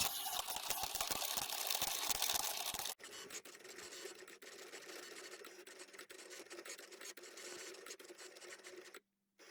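Vinyl cutting machine cutting a design on a green cutting mat, a loud whirring motor at first, then a quieter steady buzzing with rhythmic small clicks and brief pauses as the blade moves.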